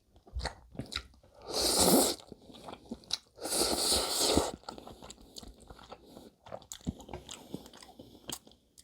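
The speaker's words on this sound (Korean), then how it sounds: "가까이 해서 먹겠습니다" Close-up eating of Samyang chunjang instant black-bean noodles: loud wet slurps and chewing with two long slurping bursts, then smacking and quieter chews, no speech.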